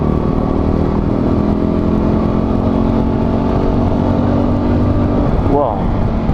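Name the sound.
Fantic Caballero Flat Track motorcycle engine accelerating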